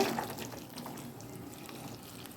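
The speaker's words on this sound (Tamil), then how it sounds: "எடுத்து வச்சுருக்க சோயாவில் நான் இப்போ சுடு தண்ணியை ஊற்றிடுறேங்க." Hot water is poured onto soya chunks in a home kitchen, starting with a brief splash and settling into a soft, continuous trickle, quiet and close, with no talking.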